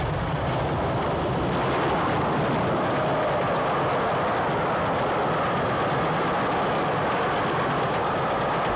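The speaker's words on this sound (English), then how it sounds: "615 Squadron 34082 roars through on the down fast line with a train for Weymouth." Steam locomotive 34082 615 Squadron roaring through on a down fast line with a Weymouth train, a loud continuous rumbling roar that holds steady the whole time.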